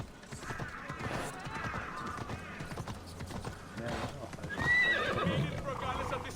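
In the Assassin's Creed Odyssey video game, a horse's hooves clop and it neighs and whinnies, mixed with someone talking over the game sounds at moderate level.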